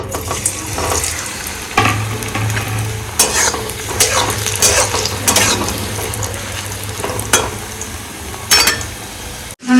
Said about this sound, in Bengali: এটা লুচির কড়াইটাই ছিল, এটার মধ্যে ভেজে নিচ্ছি।